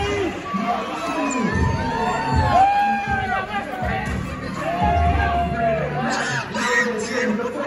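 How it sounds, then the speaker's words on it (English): A pro wrestling event crowd in a hall cheers and shouts continuously, with children's high yells and scattered whoops rising and falling throughout, loud and close. "As always, the Oelwein crowd loves Austin Bouts"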